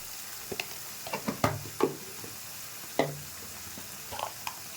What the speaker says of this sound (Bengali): এটাকে কষিয়ে নেব এখানে আমি জিরে গুঁড়োটা অ্যাড করে দিচ্ছি পরিমাণ মতো